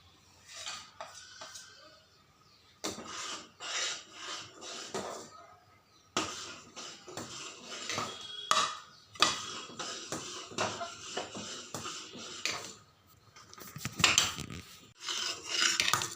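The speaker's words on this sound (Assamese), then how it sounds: "ড্ৰাই ফ্ৰুটছখিনিও মিক্স কৰি দিলোঁ।" A spoon scrapes and clinks against a pan while dry fruits are stirred into thick bread custard, irregular bursts of metallic scraping and knocking with short pauses between strokes, close and clear.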